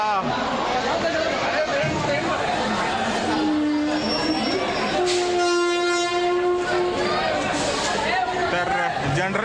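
A crowded passenger train on the Pune to Shegaon route rumbles close by while a long horn blasts twice over the clatter, with people talking throughout.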